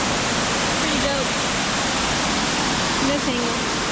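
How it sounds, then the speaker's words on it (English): Waterfall in Puerto Rico roaring as a steady, dense rush of falling water close by, constant throughout, with faint voices briefly audible beneath it. "This is the waterfall we were just at."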